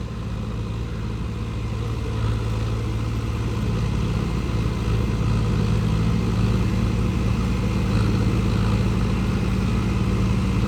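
A steady low engine rumble from a 120 hp tractor runs throughout, loud and close, with a constant idling drone and no voices.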